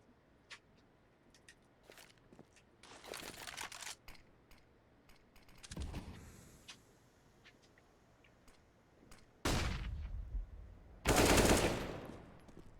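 AK-47 gunfire in Counter-Strike on the Vertigo map, short rattling bursts and single shots heard quietly at first, then loud close bursts near the end, with no talk over them.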